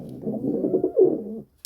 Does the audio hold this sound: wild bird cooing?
yes